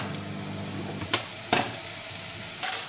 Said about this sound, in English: Stir-frying the vegetables and sausages in a well-heated frying pan.